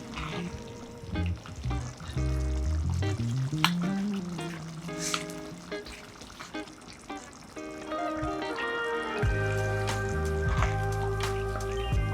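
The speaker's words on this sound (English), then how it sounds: "Cover and cook, but keep stirring in between." Tomato chutney cooking in a pan, with soft sizzling and the scrape and squish of stirring, fairly quiet and continuous with occasional clinks.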